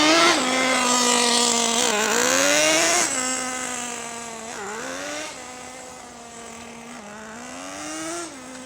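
Traxxas Jato 3.3 nitro RC car engine idling after warm-up, a loud buzzy close drone that rises and dips in small revs every second or two, heard alone without talk.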